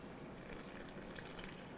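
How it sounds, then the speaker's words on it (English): Water is poured into bagel dough in a mixing bowl, a steady close trickle and splash lasting a couple of seconds at fairly low level with no talking. "So I'm going to add the water."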